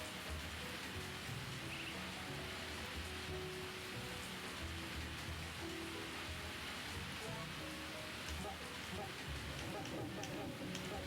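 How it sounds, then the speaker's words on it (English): Steady rainstorm in the farming video game Harvest Moon: A Wonderful Life, a constant soft hiss of rainfall under a quiet low rumble, faint and even throughout. "This is a good rainstorm in this game."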